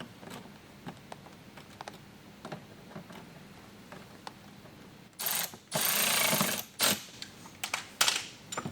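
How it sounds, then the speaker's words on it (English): A ratcheting hand wrench turns a T20 Torx while mud flaps are fitted to a 2022 Rivian R1T, with soft ticking clicks first, then loud, fast ratchet bursts up close. "Now we're going to take our T20 Torx and do this with a hand wrench as well."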